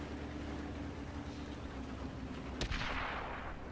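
A single sharp tank cannon shot in World of Tanks cracks out over a steady engine rumble, then trails off into a hissing tail. The shot stands alone and close, with no talk over it.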